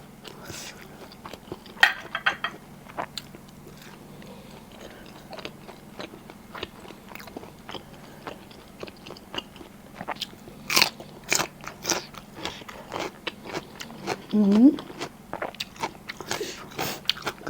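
Raw garlic is bitten and chewed together with fermented pork wrapped in banana leaf. The crunching is close and loud, made of sharp irregular bites and crackles over a steady low hum, with a brief vocal squeak near the end.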